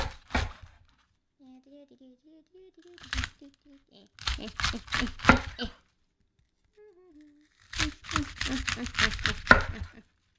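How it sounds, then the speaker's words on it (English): Fresh lettuce being chopped by hand during a home cooking stream, giving bursts of crisp, crunchy cuts in quick rhythmic runs, close and fairly loud, with quiet gaps and brief soft sounds between the bursts. "I love the sound of like fresh lettuce crunching."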